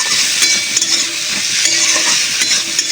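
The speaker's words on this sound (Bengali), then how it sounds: "শুটকি মাছটা একটু লাল লাল করে ভেজে নেব" Dried fish (shutki) frying in a pan, a loud steady sizzle and hiss with faint stirring scrapes, very close, no voices.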